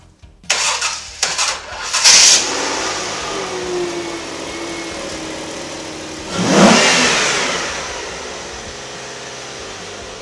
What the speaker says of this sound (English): That's the working engine.